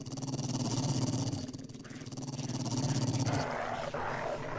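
A dog in the zombie survival game 7 Days to Die growls in a low, rough, sustained rumble, loud and close, continuing through the moment with slight swells.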